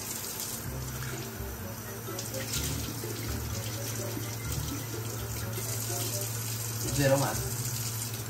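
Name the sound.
water running from a tap while washing dishes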